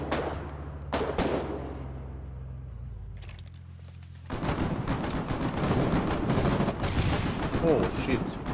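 In the war game Foxhole, sharp gunshots crack out at first, then a sudden explosion breaks into a dense, rolling clatter of gunfire and blasts that continues loudly to the end.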